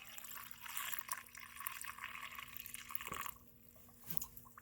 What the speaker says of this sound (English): you can hear it sucking the water in